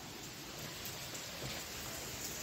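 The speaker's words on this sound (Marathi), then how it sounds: "मी दाखवतो तुम्हाला कसं पाऊस सुरू आहे." Heavy rain falls in Nagpur, a faint, even hiss of downpour with no breaks and no voices.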